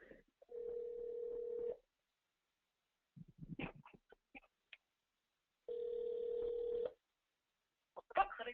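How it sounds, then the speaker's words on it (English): A phone line rings twice, each long steady tone separated by silence, with brief clicks and faint voice fragments in between. "So Dylan, let's listen to another phone call that we've got queued up here."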